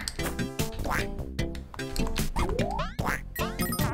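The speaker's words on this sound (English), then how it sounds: "Quack." Duck quacks from the Sega Genesis game Bubble and Squeak, a few squawky calls mixed into busy, loud chiptune music and game effects.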